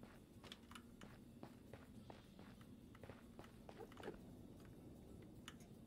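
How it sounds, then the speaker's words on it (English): Footsteps of an Enderman in a Minecraft-style video game, a steady run of soft, regular steps through the whole stretch over a constant low game background. "Is that an Enderman I hear?"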